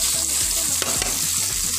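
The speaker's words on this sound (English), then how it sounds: "I'm adding the potatoes" Cumin potatoes being stirred with masala and wheat flour in a pan after the gas is turned off: loud, close, steady sizzling with quick scraping strokes of a spoon against the pan, no speech.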